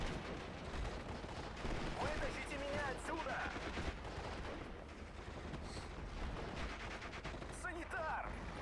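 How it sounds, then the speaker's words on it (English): Mortar fire in the World War II strategy game Steel Division: Normandy 44, a continuous rumble of distant thuds and crackling gunfire in a Normandy battle, moderately faint, with a voice talking over it. "Dropping mortars down."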